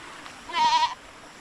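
A single goat bleats once, a short wavering cry close by, against quiet outdoor background on a farm.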